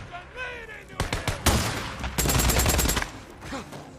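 Shotgun fire in Days Gone, a run of loud close blasts between one and three seconds amid rapid gunfire from other weapons, with someone talking before and after.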